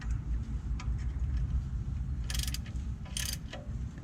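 A ratchet tightens the oil drain plug on a 2018 Nissan Altima with a 2.5-litre four-cylinder engine, giving two short bursts of rapid clicking over a steady low background drone.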